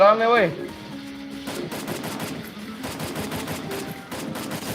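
Gunfire in Free Fire with a steady rattle of automatic shots at moderate loudness, partly under a voice and game sounds.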